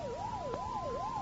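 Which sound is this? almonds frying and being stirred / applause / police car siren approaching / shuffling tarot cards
police car siren approaching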